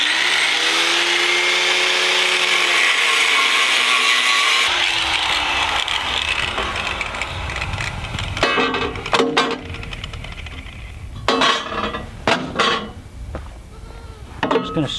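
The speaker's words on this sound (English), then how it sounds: "I'm just going to score it some more to bend it." Sheet material for a battery box is scored with a cutoff blade so it can be bent, giving a loud, whining grind that winds down, followed by a series of sharp scraping and clanking strokes.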